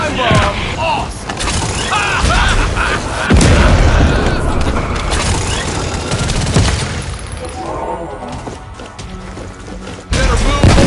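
A time bomb detonates in a video game, a loud broadband boom with crackling, fusillade-like bursts and rumble that persists through the clip, with another heavy hit near the end; a voice is also present.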